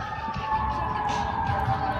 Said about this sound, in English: Sirens. There's something you hear constantly in this town